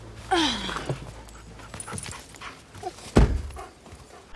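A dog pants and whimpers in a scene from the Black Widow film, with quick breathy huffs and a couple of soft thuds against quiet background sound.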